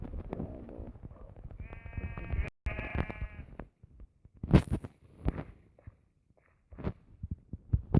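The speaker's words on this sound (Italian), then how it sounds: "La pecora." Sheep bleating in the Minecraft video game, a harmonic bleat around the middle of the clip followed by scattered short game sounds and thuds amid quieter stretches.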